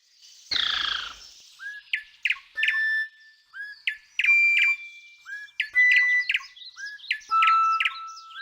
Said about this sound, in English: Tap on the hopping birds to sing a tune for her.